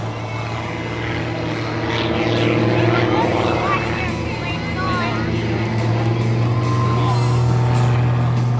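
Flat-six piston engine of an aerobatic airplane roaring steadily at a Bealeton airshow during a skidding left climb, loud and sustained with a deep droning tone, people talking over it.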